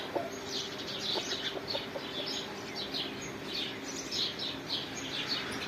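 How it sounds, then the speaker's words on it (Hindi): A rooster crows and fowl cluck amid a dense chorus of chirping birds, steady outdoor morning ambience with no talking. "इधर मुर्गे की आवाज़ें"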